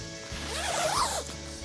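A two-way zipper on a Kelty Grand Mesa 4 backpacking tent door is pulled in one steady, rising rasp that swells near the middle and then stops, close and clear with no talking.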